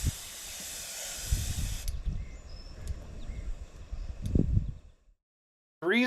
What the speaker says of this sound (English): Like any type of spray painting, put a light coat on first is what I did.